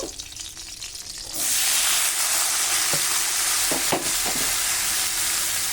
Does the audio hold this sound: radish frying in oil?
yes